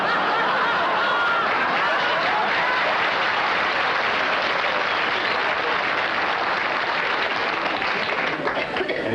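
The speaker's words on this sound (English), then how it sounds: "Which is what the audience was applauding for." A studio audience at a television quiz show applauds steadily, a dense, even wash of clapping with a few chuckles mixed in, sustained at full level throughout.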